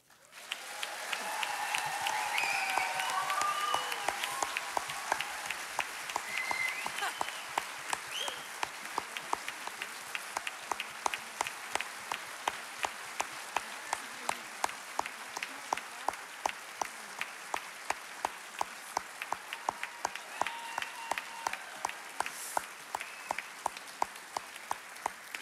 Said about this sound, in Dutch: willen jullie samen met ons een oorverdovend applaus geven voor Alex en Ralf